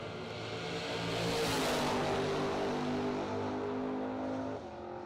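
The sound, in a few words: drag race launch of square body pickup and box body Mustang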